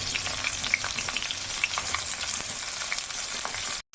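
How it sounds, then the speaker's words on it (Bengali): Chopped onions frying in a pan with cumin, giving a continuous crackling sizzle with occasional sharper pops, close and steady until a brief cut near the end. "পেঁয়াজটা হালকা ভাজা হয়ে গেছে।"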